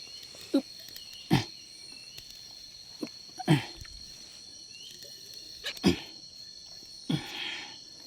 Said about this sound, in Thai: โอ้โห เสียงปลาช่อนมาเลยเพื่อน